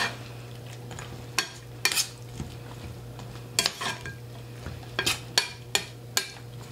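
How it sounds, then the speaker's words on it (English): Curly noodles stirred in tomato juices in a skillet: a utensil scrapes and clinks against the pan in irregular bursts over a faint steady hum, close and fairly quiet, with no talking. "So you just want to stir that up really good to make sure that all your noodles get wet"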